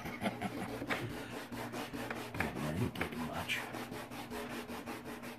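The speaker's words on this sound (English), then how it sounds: "So we're just using a sanding block." Steady back-and-forth rubbing of a coarse-grit sanding block on a wooden corner table, a rhythmic rasping scrape repeated many times, close and fairly quiet.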